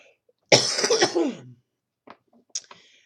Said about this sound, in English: I'm trying so hard not to cough this morning.